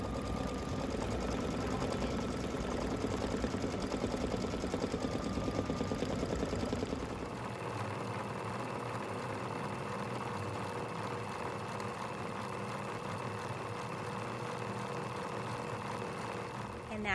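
Embroidery machine stitching a design in a quick, even mechanical rattle that runs continuously, changing to a slightly softer tone partway through, with someone speaking over it.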